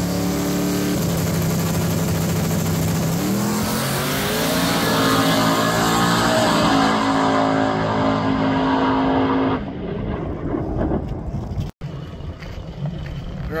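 Drag race cars making shakedown passes at an outlaw small-tire event, a loud engine drone climbing in pitch as the car accelerates away, then an abrupt cut and a fading rumble of more distant engines.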